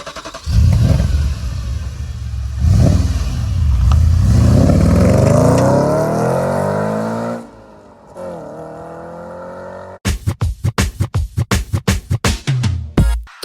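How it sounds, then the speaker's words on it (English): A 2007 Audi RS4 B7 with a six-speed manual revs hard in long rising sweeps, drops briefly to near quiet, then fires off a rapid series of sharp throttle blips close by. "this is my 2007 Audi RS4"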